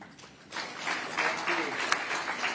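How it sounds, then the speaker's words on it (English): Audience applause at a conference on economic transformation and climate resilience, a steady patter of many hands rising after a quiet start and continuing at moderate volume for a couple of seconds. "A big round of applause."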